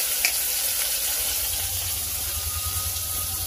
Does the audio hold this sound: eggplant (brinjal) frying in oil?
yes